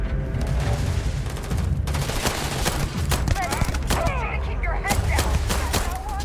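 Rapid gunfire bursts crackle almost nonstop in the space-exploration video game Starfield, loud and dense with overlapping shots and booming impacts, while a voice talks over part of it.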